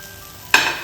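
Turmeric and chili powder hit hot oil in a pan with fish, setting off a sudden loud sizzle that bursts in after a quiet moment and keeps hissing.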